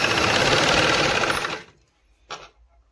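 A sewing machine runs in a fast, steady whir for about a second and a half, stitching straight along the edge of double-folded fabric, then stops, followed by a brief mechanical clack.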